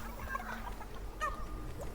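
A video game chicken gives a few short, scattered clucks against a low, steady background hum, with no one speaking over them.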